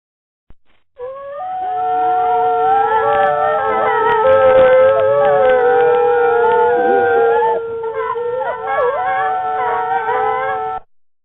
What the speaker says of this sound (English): Dogs are crying.